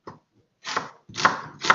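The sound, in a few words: chopping an onion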